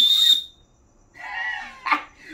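A small survival whistle from a kit with a little knife and compass gives a short, shrill, piercing blast up close, followed by quieter rustling and a brief handling noise.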